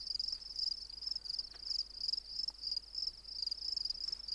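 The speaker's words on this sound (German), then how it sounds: "Und jetzt höre ich Grillen." Crickets chirping in the survival video game The Forest, a steady high-pitched pulsing trill repeating evenly throughout, fairly faint and alone with no talk.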